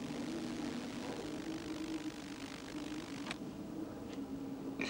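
A small ultralight aircraft's propeller engine drones steadily at a moderate distance, its hum holding a constant pitch, with a few faint clicks nearby.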